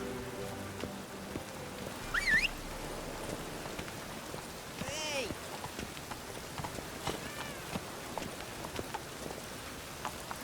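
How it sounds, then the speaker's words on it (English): Rain falls steadily throughout a scene in the video game The Witcher 3: Wild Hunt, a continuous moderate hiss with faint horse hoof clopping and a few brief higher chirps scattered over it, and no voices. "Looks like rain."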